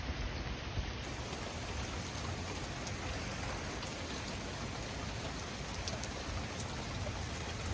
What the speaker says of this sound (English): And we've got some steady rain going on right now